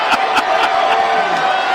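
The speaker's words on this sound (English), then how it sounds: "And the crowd is loving it." Stadium crowd at a Browns vs Jets NFL game in 2023 roars and whoops in a steady, loud wash, with rhythmic bursts of shouting rising above it and no clear speech on top.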